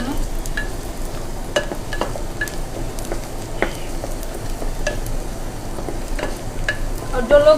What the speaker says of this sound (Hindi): अब देखिए प्याज हल्का हल्का भुन रहा है।